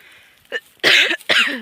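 Two sharp, harsh coughs close to the mic, one right after the other, preceded by a faint short throat sound.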